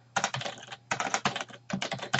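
Quick bursts of computer keyboard typing come in three short runs of rapid key clicks separated by brief pauses, close and clear with no talking.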